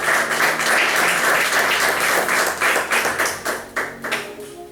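Church congregation applauding the Lord after a year-end sermon, dense steady clapping that thins into scattered claps toward the end.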